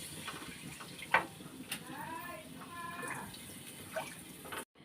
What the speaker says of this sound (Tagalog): maglagay tayong tubig. Kaunti.